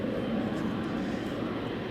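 KLM Flight 677, an airliner bound for Calgary, departing on the Polderbaan 36L runway at Amsterdam Schiphol on a sunny morning: a steady, broad jet roar heard from a distance, with no talking.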